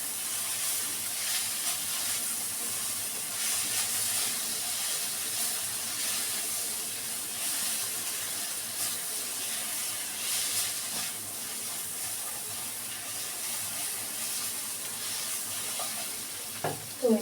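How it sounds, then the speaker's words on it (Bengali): Onions with tomato and capsicum fry in a pan for an egg paneer roll, giving an even, close sizzle that holds steady throughout, with a few faint clatters near the end. "পেঁয়াজগুলো ভাজা ভাজা হয়ে গেছে।"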